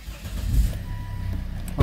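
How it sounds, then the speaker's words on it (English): A Volvo XC90 D5 diesel engine starting, a brief crank rising into a low rumbling idle close by, with a faint steady tone underneath. "Now I'm going to start the engine."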